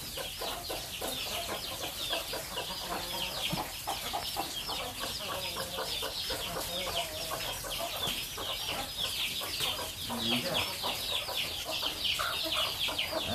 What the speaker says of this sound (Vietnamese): gà nhà cháu toàn ăn bưởi thôi nhá